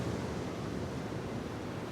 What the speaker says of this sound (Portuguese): o desenho de som nos faz ouvir as ondas do mar com maior vigor